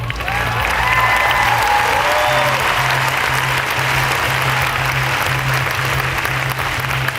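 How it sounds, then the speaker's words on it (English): Loud, sustained audience applause fills a large pageant venue, dense and steady throughout, with a low background hum beneath the clapping. "We'd also like to keep your hands clapping"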